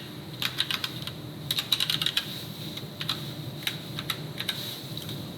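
Fingers tap out hello world on a computer keyboard, a few quick bursts of light key clicks with short pauses, close and quiet.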